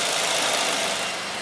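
A 2011 Peugeot 307 with the 1.6 TU5JT4K engine runs with a steady, loud mechanical whir and hum, close by, with no talk.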